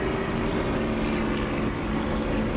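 Aircraft engine in the DCS flight simulator game, a loud, steady, droning roar with a constant hum throughout.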